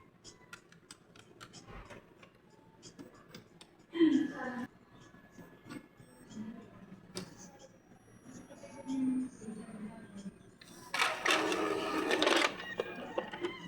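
An Epson L3110 inkjet printer runs a nozzle check print, with mechanical whirring, a soft thump at the start and a louder, denser burst of print-head and paper-feed noise near the end, heard close up.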